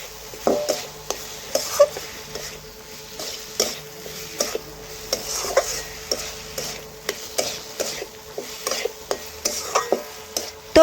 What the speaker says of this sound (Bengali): এখন পটলও ভালোভাবে নাড়াচাড়া করে মশলার সাথে কষে